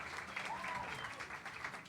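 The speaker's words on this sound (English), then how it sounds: "round of applause for Heather" Applause from an event audience at a Durham, North Carolina mayoral candidate forum, honoring Heather Cook; steady, fairly soft clapping runs throughout with a faint voice underneath.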